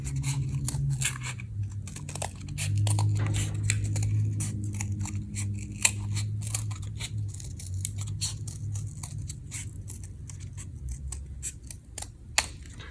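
Scissors snip through paper while cutting out a stamp shape for a craft project, a rapid irregular series of crisp close cuts and crunches with brief pauses and faint rustling between.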